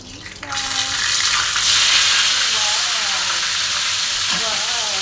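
Food dropped into hot cooking oil for lunch, a loud, steady sizzle and spatter that swells quickly and holds, with a voice talking over it.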